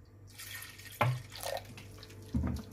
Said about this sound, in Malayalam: ഇനി നമുക്ക് ഒരൽപ്പം വെള്ളം ചേർക്കാം.